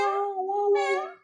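A person imitates a cat's meow, a single drawn-out, rising and falling mew sung close and clear.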